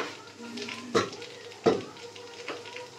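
Chopped onions sizzle in hot oil in a pan, a steady soft frying hiss broken by two sharp metallic clanks of a utensil against the pot, recorded close.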